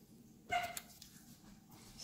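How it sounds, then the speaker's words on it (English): A dog barking outside, heard in the background: one sharp bark stands out, followed by a few fainter yips, all muffled by distance against a quiet room. "Sorry if you hear my dog there in the background"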